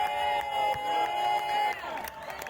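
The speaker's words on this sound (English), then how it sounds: "Fans are cheering." Crowd of fans at a Hurricane Pro Wrestling match cheering and whooping, a loud sustained roar with shouted calls rising over it, filling the hall briefly before dipping slightly.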